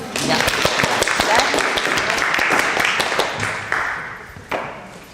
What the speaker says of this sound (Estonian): tubli, teeme aplausi.